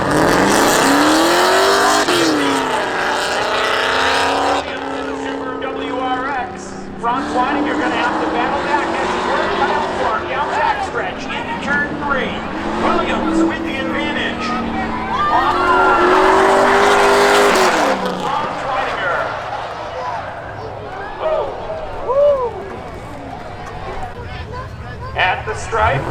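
A Subaru WRX and other cars race at Seekonk Speedway spectator drags, engines revving and rising in pitch through gear changes with occasional tire noise, loud and close, under continuous announcer commentary over a loudspeaker.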